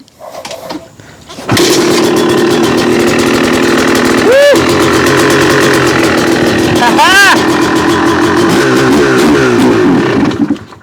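A 2002 Honda CR250 two-stroke dirt bike, freshly rebuilt top end, kicked over, catches and roars loudly and steadily up close, with two sharp revving blips before it begins to falter near the end.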